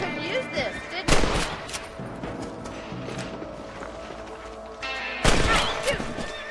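Rifle fire in the Western video game Red Dead Redemption: two loud, sharp shots a few seconds apart, each ringing out over a busy background of game ambience with hoofbeat-like movement.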